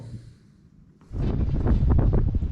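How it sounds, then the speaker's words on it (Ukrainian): Quiet rumble at first, then a loud, sustained gusty roar of strong wind buffeting the microphone, broadband and continuous. "Вітер такий вже другу добу що аж голову зносить."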